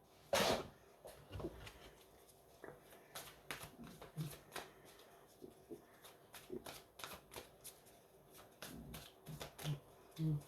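Tarot cards being shuffled by hand during a reading, a quiet run of irregular riffles, flicks and soft card slaps, close but faint, with no speech.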